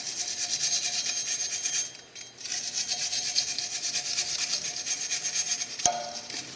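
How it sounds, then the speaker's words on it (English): Wire brush scrubbing back and forth across the face of a rear brake hub on a Dodge Grand during a rotor and pad change, a steady close abrasive rasp with a short pause near the middle and a sharp knock near the end. "a wire brush, and we're just going to give this a good wipe around"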